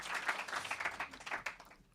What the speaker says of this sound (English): can we just give him a round of applause